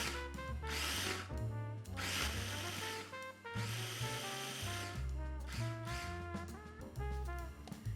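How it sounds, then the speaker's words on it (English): A food processor chops coarsely cut hot and sweet peppers for pepper jelly, its motor whirring loudly in several pulsed bursts with brief dips between them and no talking. "I like to coarsely chop my peppers and then transfer them to a food processor."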